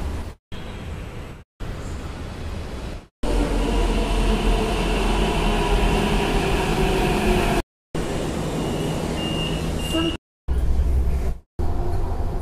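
A Hyderabad metro train rumbles along between Sultan Bazar and Parade Grounds, a loud, steady low roar heard from inside the carriage, cut by several abrupt silent gaps.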